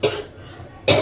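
A woman coughs in two short bursts, one at the start and one near the end, with a quiet pause between, close and fairly loud; she has congestion and an itchy throat.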